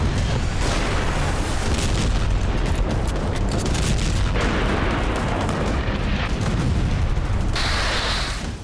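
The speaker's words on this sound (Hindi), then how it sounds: "ये 12 अक्टूबर को इजरायल के पैट्रियट एयर डिफेंस सिस्टम से चली मिसाइल है" An Israeli Patriot air defense missile launching, heard as a sustained, loud roaring blast with dense rumbling bursts that continues almost unbroken for nearly nine seconds.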